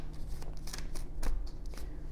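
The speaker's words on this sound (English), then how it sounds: "Let's pull some oracle cards" Oracle cards being pulled and shuffled from a deck, soft papery flicks and slides in an irregular rhythm, close and quiet with no talk.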